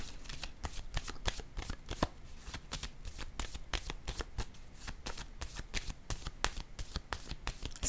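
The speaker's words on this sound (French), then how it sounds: "je pense que je vais piger une carte pour" A deck of tarot cards is shuffled by hand in quick repeated riffles and soft slaps, a close and fairly quiet rhythmic flutter with no talking heard.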